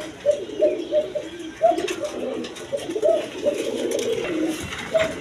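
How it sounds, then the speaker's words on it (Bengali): Pigeons cooing at a bird market, a run of soft, repeated rolling coos close by, pulsing irregularly through the clip over light background noise. "দেখেন একদম কোয়ালিটি সম্পন্ন কবুতর, নর মাদি সেম টু সেম"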